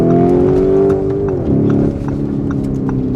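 A Lamborghini Urus Mansory SUV pulling hard under acceleration, a loud engine roar rising in pitch and then dropping through a gear shift before building again, close up with no talk over it.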